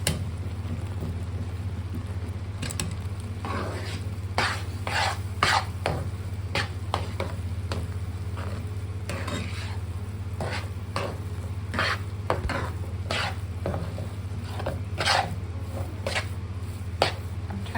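A spoon stirs a roasted flour mixture in a pan for a homemade Pineo drink, giving repeated close scraping clicks and taps in quick irregular bursts over a steady low hum, with no talk.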